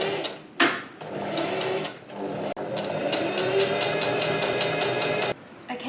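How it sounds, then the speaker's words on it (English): A sewing machine stitches a second row about 3 to 5 mm beside the first on curtain fabric, running in a rapid, even mechanical chatter after a brief start and pause, then stopping near the end. "I'm just stitching a second row about 5mm or maybe 3mm next to the one I just did."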